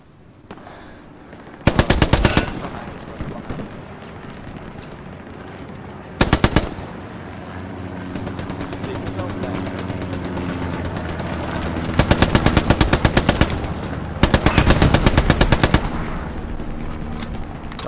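Automatic gunfire from a gun in the World War II shooter Hell Let Loose, loud, with several sustained bursts of rapid shots separated by quieter stretches of ambient battle noise, no talking.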